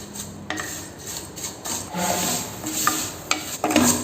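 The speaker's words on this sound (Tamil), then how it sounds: "சேமியா நமக்கு வந்து நல்ல ப்ரௌன் கலர் ஆகிற வரைக்கும் இந்த நெய்யில் நம்ம வறுக்கணும்" Semiya vermicelli roasting in ghee while being stirred for paal payasam, close dry rubbing and scraping strokes of a spatula in the pan with faint crackle, a few sharper knocks near the end.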